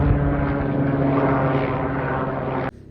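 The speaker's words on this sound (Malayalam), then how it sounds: "ഹെലികോപ്റ്റർ പോകുന്നുണ്ടോ." Helicopter flying over mountains near Namche Bazaar on the Everest route, a steady droning engine and rotor hum heard alone for a few seconds before cutting off abruptly.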